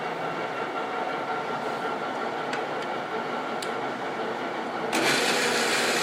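Large metal gap bed lathe, a Timemaster/Gurutzpe 24"/34" x 160" machine, cutting a thread with the half nut engaged, a steady mechanical drone with faint clicks, getting louder near the end, no talking.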